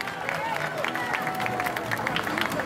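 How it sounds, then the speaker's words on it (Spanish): Crowd applause and cheering at a children's parade for the Mexican Revolution, a diffuse babble of voices and scattered clapping at moderate distance, with talk mixed in. "¡Fuerte el aplauso para el jardín de niños Caguasa Sillajua!"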